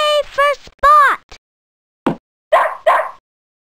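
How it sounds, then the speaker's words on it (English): Short dog barks in the Harry and the Haunted House video game, two or three quick yaps after a voiced stretch that may be the dog or game speech, sounding close and clear. "My dog had found it. Good dog, Spot. Good dog"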